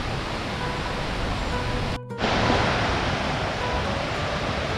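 A stream flows beside the trout valley at Maşukiye, a steady, dense rush of water close to the microphone. It continues without a break except for a brief dropout at about two seconds.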